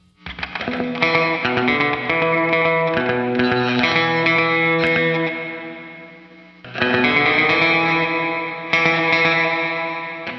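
Sustained, heavily processed guitar chords ring out through a plate reverb with a wide, shimmering tail, loud and dense, with a brief dip before the strumming swells again.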